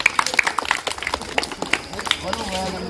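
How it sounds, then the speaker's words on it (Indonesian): An audience claps for a group at a school gathering, a brisk scatter of hand claps mixed with voices talking over it for a few seconds. "Kasih aplaus untuk kelompok ini."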